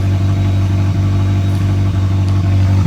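Loud car exhaust idling steadily near 1,500 RPM, a deep, even droning rumble close to the microphone with no breaks.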